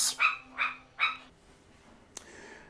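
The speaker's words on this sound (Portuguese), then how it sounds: "Vixe Maria, estão brigando muito aqui. Eu apresento a vocês meus cachorros, Kiara e Mia." Two dogs, Kiara and Mia, scuffling with a few short high yips and barks in quick succession, then a sharp click and quiet room tone.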